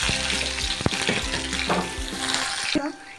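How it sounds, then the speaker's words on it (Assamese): Onion frying in smoking-hot oil, a dense steady sizzle with sharp spits and pops throughout, close and loud, tapering near the end. "তেলটো পাক গৈছে দেই পিঁয়াজ দিব লাগিব পিঁয়াজটো দি লওঁ দেই"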